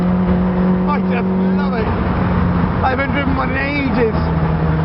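A Caterham Supersport R sports car drives with its engine droning and shifting pitch as it revs and eases off, while someone talks over it.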